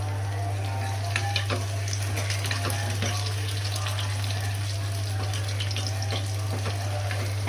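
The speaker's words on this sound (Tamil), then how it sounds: "எண்ணெயில் பூண்டை போட்டு நல்லா செவுக்குட்டோன்னு சொல்லிட்டு" Garlic fries in oil with a steady, close sizzle and scattered small crackles, heard alone over a constant low electrical hum.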